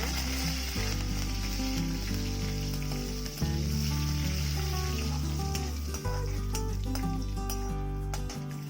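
Curry leaves crackle and sizzle steadily in hot oil, a continuous hiss over a low, droning musical backing that runs throughout.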